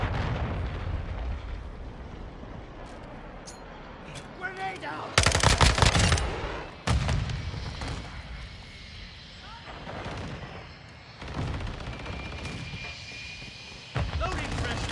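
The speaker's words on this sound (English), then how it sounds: "Hostiles launched a cruise missile." Loud bursts of automatic gunfire and heavy blasts in a Call of Duty multiplayer match, with a big explosion-like roar around a cruise missile strike, broken by dense rattling fire and short loud impacts, with radio-style voice callouts over the top.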